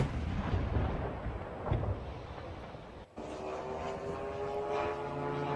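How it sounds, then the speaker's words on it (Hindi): A drone strikes a building in Kazan. A loud, rumbling roar like a blast or engine drone fills the first half, cuts off in a brief drop, then gives way to a steadier, droning hum. "ड्रोन सीधा इमारत से टकराया"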